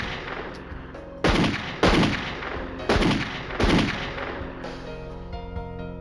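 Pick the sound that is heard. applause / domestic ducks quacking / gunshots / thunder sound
gunshots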